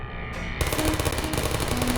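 A turret in the video game Portal fires a rapid, loud burst of machine-gun shots that begins after a short lead-in and continues to the end, with no talking over it.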